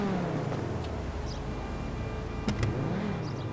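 Sports car engine in GTA Online, a steady, mid-loud engine drone with a rising and falling revving pitch and a brief sharper burst midway, with no talk.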